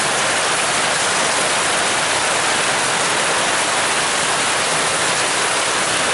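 Heavy rain with water pouring off a clogged gutter, a dense, loud, unbroken wash of falling water close by, steady throughout with no pauses.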